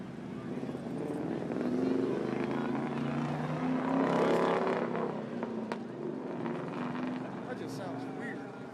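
A Mustang at a late-night street car meet revs with a rising and falling engine roar, loud and fairly near, surging twice while people talk over it.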